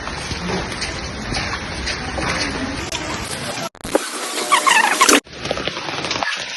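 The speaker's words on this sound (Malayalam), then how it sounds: "നമ്മൾ നല്ല മഴയാണ്" Heavy rain patters steadily and densely throughout, a constant wash of drumming drops with a brief break and some sharp squeaky sounds midway.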